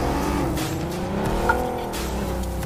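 A vehicle drives on a road in the battle royale video game PUBG on the Erangel map, a loud continuous engine drone with tire noise, close and steady, with no talking.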